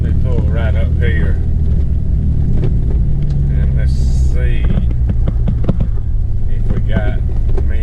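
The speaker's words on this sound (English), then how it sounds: "The car coming." A car approaches on a farm road, its low engine rumble running steadily underneath while someone talks close by over most of it.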